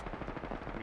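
Gunfire in the Apex Legends video game, a rapid burst of automatic shots rattling continuously, fairly quiet and heard alone.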